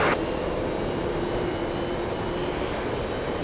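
An American Airlines Airbus A319 jet landing at JFK airport, a steady, loud, continuous engine roar with a faint whine, heard from nearby without a break.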